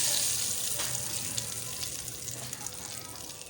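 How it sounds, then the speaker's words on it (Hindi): Hot tempering with Kashmiri red chilli poured onto dhaba-style dal, a soft hissing sizzle that fades gradually, close and moderately quiet. "इसमें कश्मीरी लाल मिर्च डाल के फ़ौरन चूल्हा बंद कर देंगे और अपनी दाल के ऊपर भगार लगाएंगे।"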